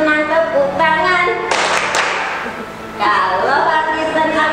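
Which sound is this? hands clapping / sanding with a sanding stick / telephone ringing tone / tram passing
hands clapping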